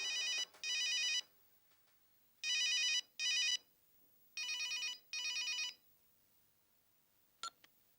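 A telephone rings in three paired bursts of shrill electronic trills with short silences between each pair, heard clearly and alone; a faint click follows near the end.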